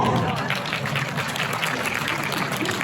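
Audience applause rises at the opening ceremony of a film festival in Salon-de-Provence, a steady wash of clapping from a seated crowd, with some voices mixed in beneath it.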